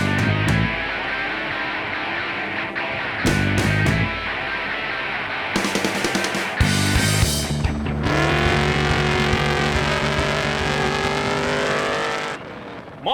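A trophy truck racing in the Sunraysia Safari rally roars past with hard engine revving and rising gear changes, loud and close, building into a sustained high-pitched howl before cutting off.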